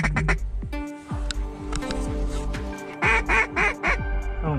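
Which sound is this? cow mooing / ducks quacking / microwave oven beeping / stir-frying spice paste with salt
ducks quacking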